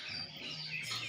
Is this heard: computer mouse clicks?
no